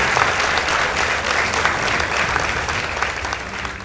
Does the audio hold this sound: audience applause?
yes